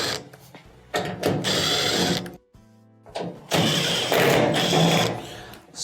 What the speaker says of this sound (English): on the back here we have 3 1/4-inch screws that have to be removed